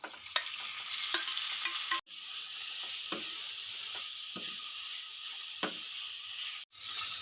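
Chicken stir-fried in a pan, a steady close sizzle with a few sharp scrapes and knocks of a spatula, no voices.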